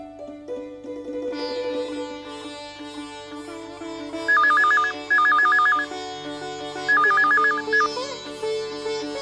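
A telephone rings in repeated electronic bursts, three clear rings over soft background music in a domestic drama scene, with no talking.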